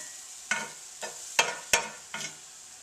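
Peppers hitting a hot pan for a cheesesteak sandwich: five short sizzling bursts about half a second apart, each flaring and quickly fading, with no talking.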